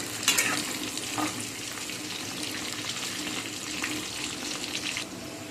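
Pakoras fry in hot oil in a kadai, a continuous close sizzle and bubbling with occasional stirring and turning sounds, heard alone without speech.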